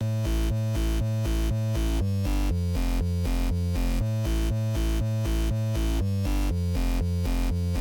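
A synth bass line bounces steadily between low and high octaves, alternating every note in a tight, driving rhythm, with no voices.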